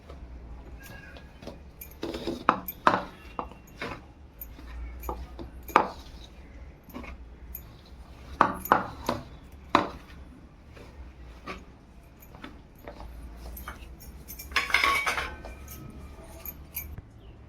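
Thalipeeth flours, including besan gram flour, are mixed by hand in a bowl, with scattered knocks and clatters of the bowl and utensils coming in irregular clusters, fairly close and with no talk.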